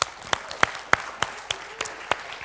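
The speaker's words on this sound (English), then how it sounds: "So give them a very, very big applause for helping us." Audience applause at a Garage48 hackathon event in Grodno, Belarus: a light, scattered round of claps with sharp individual hits spaced in a loose, steady rhythm over a soft background hum.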